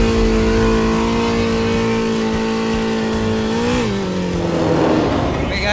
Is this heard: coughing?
no